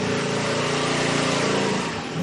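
A small scooter engine drones loud and close, a buzzy, lawnmower-like hum that holds steady through the whole stretch with a slight dip at the end, with no one talking over it.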